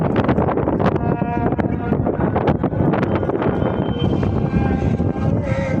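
Strong wind buffeting a microphone during an outdoor shoot, a loud, dense, continuous roar and rumble with gusty surges, with voices partly buried beneath it.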